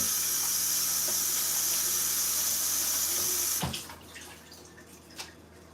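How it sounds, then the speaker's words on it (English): Tap water runs steadily into a sink as shredded carrots are rinsed, a bright continuous hiss that stops abruptly, leaving faint drips and a small clunk afterward. "So I am gonna wash some of these shredded carrots."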